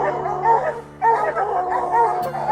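Hunting dogs bay and yip at a bear treed during a bear hunt, with repeated overlapping barks and whines, close and loud, pausing briefly before resuming.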